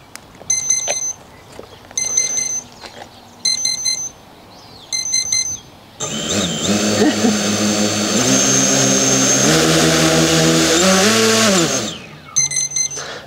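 A coaxial concept RC plane's twin motors spin up into a steady, loud whine with rising and falling pitch for several seconds, set between short repeated electronic beeps before and after.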